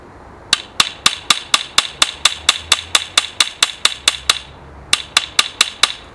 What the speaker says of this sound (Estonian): Nüüd ma hakkan juba haamriga siin sellel kumeral pinnal andma seda kuju.